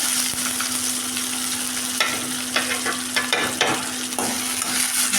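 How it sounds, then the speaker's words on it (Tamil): Large onion frying in oil with mustard seeds and ginger garlic paste, a constant close sizzle with a few stirring scrapes toward the middle, loud and without speech. "எண்ணெய் ஊற்றியாச்சு, கடுகு போட்டாச்சு, பெரிய வெங்காயம் ஒன்று போட்டாச்சுங்க, இஞ்சி பூண்டு பேஸ்ட்டுங்க"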